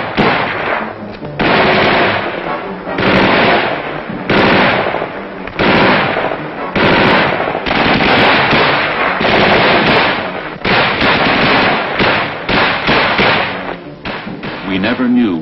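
Loud, rapid bursts of machine gun fire from a Viet Cong ambush in the Vietnam War, with heavy thumps repeating in clusters across the clip while a voice narrates over it.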